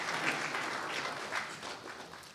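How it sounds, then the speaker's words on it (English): Audience applause at a software preview event, a steady wash of many hands clapping in a room, moderately loud with slight swells, no voices over it. "I love the applause."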